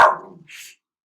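A dog gives one short, sharp bark close by, followed by a brief faint hiss, then silence.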